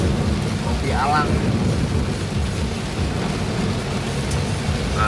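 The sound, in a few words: heavy rain during a car journey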